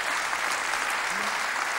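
Studio audience applauding in a German TV talk show studio, a steady dense wash of clapping that fills the whole stretch at a constant level.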